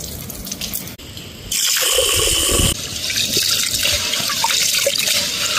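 Water splashes and pours from a tap into a vessel while rice is rinsed for Mangalore rice rotti, a steady running flow with a louder gush midway, close and without talk.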